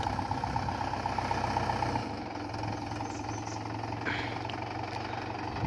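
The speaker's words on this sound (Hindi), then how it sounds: "इससे पीछे किया ट्रैक्टर" A tractor hauling a trolley of sand idles and backs up on a rain-soaked, muddy village track, a steady low engine chug with a slight knock, close by and continuous with no talking.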